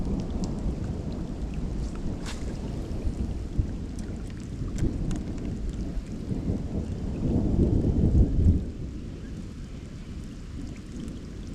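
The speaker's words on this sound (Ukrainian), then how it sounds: "Якщо дощ не перестане, буду збиратися." Steady rain pours down with low rumbling thunder rolling underneath, swelling louder for a few seconds before easing back, at a lake while spin fishing.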